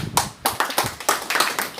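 Several people clap together in a room, a short burst of sharp, uneven hand claps following one another quickly at close range.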